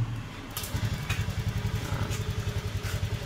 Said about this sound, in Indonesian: ini coba saya nyalakan dulu motornya